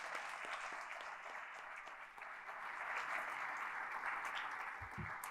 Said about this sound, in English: One more round of applause for them for taking the time for that.